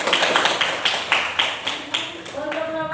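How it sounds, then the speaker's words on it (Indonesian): A group in an Indonesian school classroom claps for the group that presented, about ten quick, even claps in a steady rhythm. A voice starts talking as the applause fades near the end. "Tepuk tangan untuk kelompok 2."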